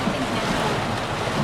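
Heavy storm with lots of water, heard as a steady broadband wash of rain and water rushing against a moving vehicle, with wind buffeting the microphone and faint voices beneath.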